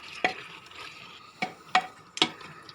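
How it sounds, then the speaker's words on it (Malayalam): One kilogram of chicken is stirred into masala in a cooker for dum biryani, giving four spaced, sharp scraping strokes of a spoon against the pot over a soft sizzle. "അത് നന്നായി ഇട്ട് കൊടുത്ത് നന്നായി ഇളക്കി മസാലയോട് കൂടി ഇളക്കി യോജിപ്പിച്ചെടുക്കുക"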